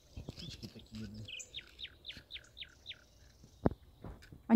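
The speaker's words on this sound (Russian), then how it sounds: "Птички такие, блин." Small birds chirp in a forest: a quick run of six or so bright, evenly spaced tweets, with quieter scattered calls and faint rustling around them.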